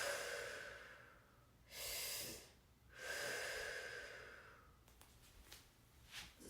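Deep, slow breaths during a lunging lower-body fascia stretch: two long, loud inhale-exhale cycles near the start, then quieter, shorter breaths and faint rustling toward the end.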